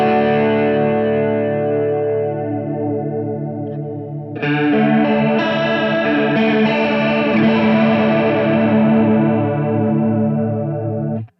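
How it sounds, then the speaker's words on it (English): Electric guitar played through an Eris Pedals Master Chorus pedal, a Boss CE-style chorus clone, sustained chords shimmering and wobbling with a wide chorus effect, a louder strum entering midway and ringing on steadily with no voices. "What's good about chorus to me is that it can really add a lot of body and fullness to your guitar sound."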